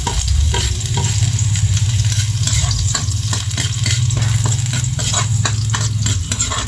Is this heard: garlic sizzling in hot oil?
yes